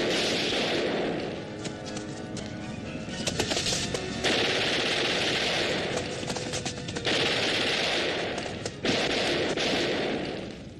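Video game gunfire rattles in rapid automatic bursts with sharp crashes, loud and near, broken by short pauses and shifting bursts throughout, with no clear talk over it.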